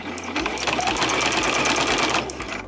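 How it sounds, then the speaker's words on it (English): A sewing machine stitches the seam of a selvage-edge zipper bag, running in a steady, continuous mechanical whir for nearly the whole stretch after a brief quiet start, close and fairly loud with no voices. "And then lower my presser foot and keep going"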